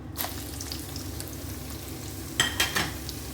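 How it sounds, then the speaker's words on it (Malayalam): Green chillies, ginger and garlic fry in hot oil for a prawn pickle, a quiet steady sizzle with a few scrapes of a spoon stirring the pan near the end. "ഇതും ഇതുപോലെ നമുക്ക് ജലാംശമൊക്കെ വറ്റിച്ച് വറുത്ത് കോരിയെടുക്കാം"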